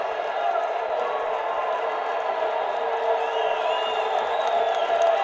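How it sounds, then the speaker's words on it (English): Football supporters in a stadium in Nashville send up a sustained cheer after a goal, a broad distant crowd roar running under close commentary. "Maybe it's a consolation cheer for the supporters in here in Nashville."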